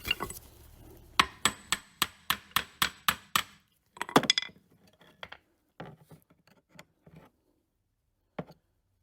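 A hammer drives an axle yoke into place on a Jeep Cherokee during a steering reinstall. About eight sharp metallic blows land in an even rhythm, then lighter scattered taps and clinks follow with pauses between them.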